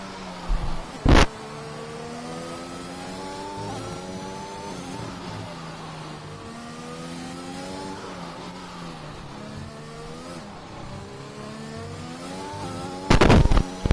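A racing game car at the Spain circuit brakes for a hairpin and picks up the throttle again, the engine note falling and rising in pitch across gear shifts, with loud clipped bursts at the start and end.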